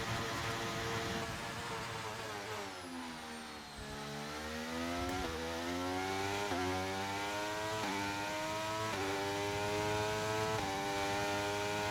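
A Formula 1 car engine in a racing game, on a Las Vegas race weekend, runs rough and strained. Its buzzing whine dips, then climbs repeatedly through gear changes, loud and close, with no talk.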